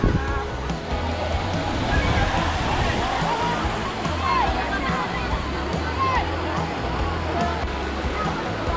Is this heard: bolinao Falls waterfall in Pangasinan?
yes